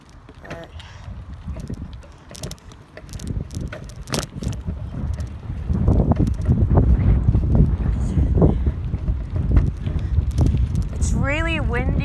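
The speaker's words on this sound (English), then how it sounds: "It's windy. It's a lot more windier today." Strong wind buffets the microphone while cycling in Hidden Valley, a loud rumbling roar that builds and stays heavy, with people talking over it.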